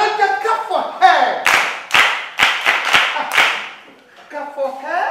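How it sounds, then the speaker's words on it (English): Group clapping for a girl in a classroom: a brief run of about six crisp, close claps in loose rhythm, with a voice talking before and after. "Another clap for her!"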